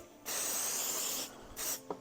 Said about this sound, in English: So I'm going to use the temporary spray adhesive, the Oda 505.